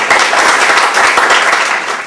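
A warm round of applause fills a hall at a book presentation, the audience clapping in a loud, dense, continuous wash for about two seconds without voices.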